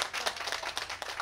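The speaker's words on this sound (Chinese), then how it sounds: "那我们现在就掌声欢迎佳琪" Audience clapping at a small live music venue in Taiwan, a brief dense burst of applause close by with no voices.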